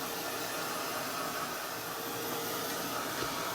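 A hair dryer or heat tool blows steadily over an art journal page, a constant close-up whooshing roar without breaks.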